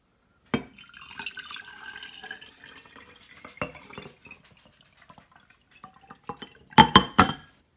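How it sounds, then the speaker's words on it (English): Water splashes and drips inside an emptied glass sauce jar while it is rinsed, with a few light clinks and a louder burst of sloshing and clattering near the end. "Now let me rinse that out."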